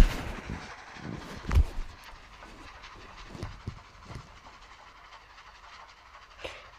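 Train rolling along in a zombie survival video game, a steady rumbling run with occasional heavier knocks and clanks, moderately loud and with no talking.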